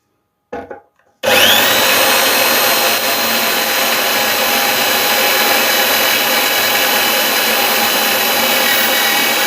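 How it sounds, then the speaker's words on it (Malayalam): An electric drill with a small bit bores out a broken screw. After a couple of brief clicks it spins up into a loud, continuous high whine that holds steady close to the mic. "അതിന് ഞാനൊരു ഡ്രില്ലിംഗ് മെഷീൻ എടുത്തിട്ടുണ്ട്. ഇതിൽ ചെറിയൊരു വിറ്റും ഇട്ടിട്ടുണ്ട്"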